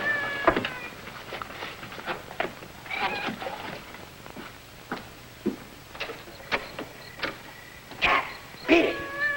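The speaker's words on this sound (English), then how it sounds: "Some cat woke me up." A cat meows several times at night, short nasal cries spread unevenly across the stretch, fairly close, with a man calling softly in between.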